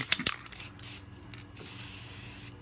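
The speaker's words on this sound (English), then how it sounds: "we always want to start spraying before we cross over the object that we're painting" Short hissing bursts from a spray paint can, a few quick spritzes followed by a longer steady spray, preceded by a faint rattle.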